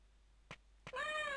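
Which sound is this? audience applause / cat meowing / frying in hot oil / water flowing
cat meowing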